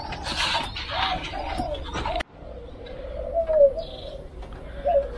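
Caged spotted doves kept for breeding give a few low, drawn-out coos nearby after a brief rustle and an abrupt cut, with faint shuffling around them.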